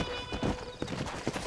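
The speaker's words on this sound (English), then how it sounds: "Just stole this man's horse." Hooves clip-clop from a horse in a video game, a few uneven thuds over a steady background hiss, moderately close and fairly quiet.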